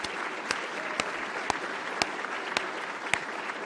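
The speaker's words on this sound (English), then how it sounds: "Please join me also in a round of applause for those individuals." An audience at an annual meeting's awards segment applauds the recipients, a steady wash of clapping with sharper individual claps punctuating it at regular intervals.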